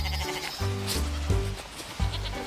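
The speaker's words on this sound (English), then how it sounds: "Which animal makes a bleating sound? A goat." A goat bleats several times in a row, a series of nasal, wavering calls with short gaps between them, close and fairly loud with no talk over them.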